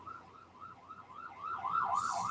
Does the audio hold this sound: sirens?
yes